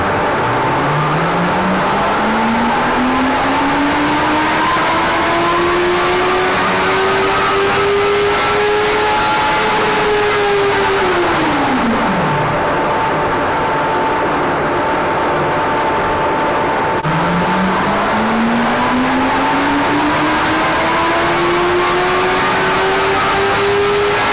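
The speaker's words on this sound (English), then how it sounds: "Done our pre-run on our CB650R." A 2023 Honda CB650R motorcycle on a dyno, loud and close, rises in one long rising engine pull, drops away, then starts climbing again in a second run.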